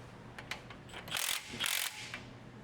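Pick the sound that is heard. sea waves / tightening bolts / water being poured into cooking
tightening bolts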